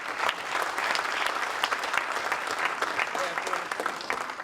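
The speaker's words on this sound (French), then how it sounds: "On peut les applaudir." Sustained, dense applause from an audience at a 20th-anniversary celebration of a Charente vineyard conservatory, with steady clapping filling the room at an even level throughout.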